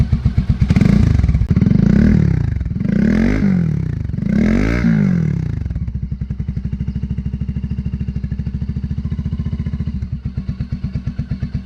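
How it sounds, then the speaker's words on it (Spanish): A Vort-X 300 motorcycle engine revs loudly several times in quick surges, then drops to a steady, throbbing idle that continues to the end. "La verdad el sonido está bastante bonita de esta motocicleta."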